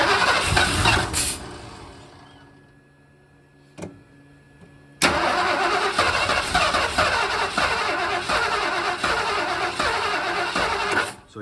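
A 1978 Ford Bronco's engine cranks briefly, falls quiet, then catches and runs loudly with a rough, uneven, backfiring idle, close by and alone with no talk.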